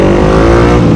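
A Honda CBR150R with a Daytona GP Taper exhaust, its dB killer open, revs in a loud, close, continuous engine roar with steady harmonic drone for one second.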